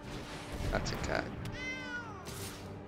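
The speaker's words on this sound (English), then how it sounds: "That's a cat." A cat meows in a drawn-out, wavering call that trails off, with a person talking around it in a game-playing setting.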